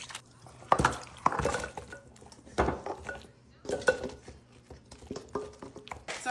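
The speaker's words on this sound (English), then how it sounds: "Give that a little whisk." A whisk stirs beef broth with gravy mix in a metal pot, producing irregular scraping clinks and sloshing strokes in uneven bursts, fairly close and clear.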